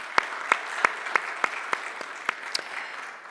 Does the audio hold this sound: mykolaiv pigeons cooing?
no